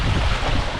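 Heavy wind roar and rushing water surround a MiniCat 520 Explorer catamaran under sail in the Stockholm archipelago. The sound is loud and continuous, dominated by buffeting noise.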